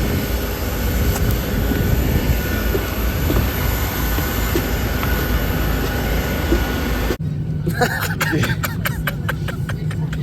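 Loud, steady broadband roar of an airplane interior fills most of the stretch, then cuts to a quieter cabin hum with faint rattles and clicks near the end.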